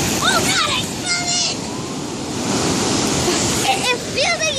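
Ocean waves wash over sand at a beach, a loud, continuous rushing surf close by, with people talking and exclaiming over it.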